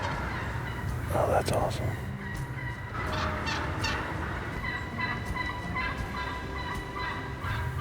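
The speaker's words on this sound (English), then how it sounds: "we've got a gobbler right in our face." A wild turkey gobbles close by outdoors in a fall hunting setting at early dawn. One burst of rattling gobbles stands out clearly over the background, and someone speaks briefly.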